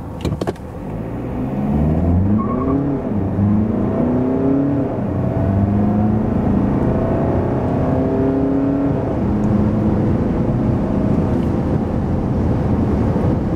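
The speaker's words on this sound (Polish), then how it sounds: "tak samochód przyspiesza od 0 do setki" A Skoda Superb 2.0 TDI diesel of 2024 accelerates hard from standstill to 100 km/h, engine note rising through several gears with brief dips at each shift, steady and loud from inside the cabin, no talk.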